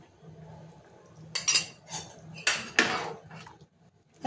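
A spoon stirs roasted, finely ground coconut into a curry in a metal pot. Close scraping and clinking strokes come in a couple of bursts, with quiet pauses between them.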